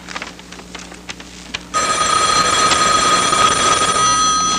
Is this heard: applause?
no